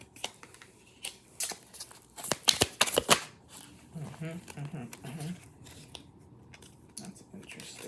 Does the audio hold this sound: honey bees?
no